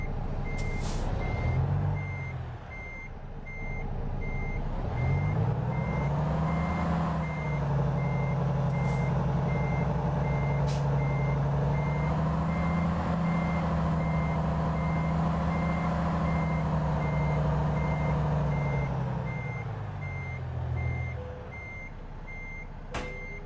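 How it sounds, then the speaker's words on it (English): A truck in American Truck Simulator reverses with a steady, repeating electronic backup beep over a loud, droning diesel engine that rises and holds, with brief air brake hisses at start and end. "Put the truck here in reverse. And back up and get it."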